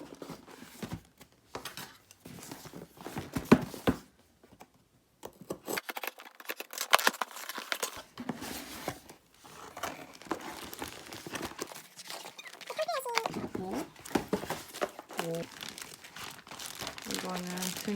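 A marathon prize package being unboxed at home, with bursts of plastic wrapping crinkling and rustling close by, some sharp snips and tears, while someone talks intermittently.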